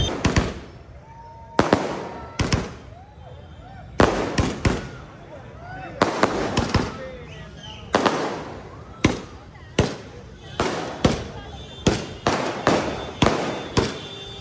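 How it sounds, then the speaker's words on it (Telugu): Firecrackers burst outside a Bangalore theatre at a crowded movie premiere: a loud, irregular series of sharp bangs and crackling volleys, each fading quickly, with people talking and cheering in the background. "టపాకాయలు కూడా పేలుస్తూ ఉన్నారు."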